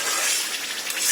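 Water poured into a pan of boal fish curry: a steady, close rushing gush that lasts just over a second, with no talking.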